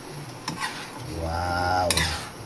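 Coconut cream poured into a pan of cooking jackfruit with shrimp, sardines and long beans sets off a swelling sizzle and bubbling, with a few clinks of stirring around it, close and fairly quiet.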